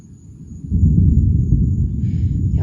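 Low, steady thunder rumbles at a distance for a couple of seconds, swelling up from quiet and holding at a broad, deep drone with a faint high tone above it.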